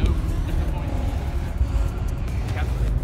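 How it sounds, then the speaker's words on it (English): A Porsche car driving by, a loud, steady low engine and road rumble close by that dominates throughout, with no clear gear changes. "driving a Porsche"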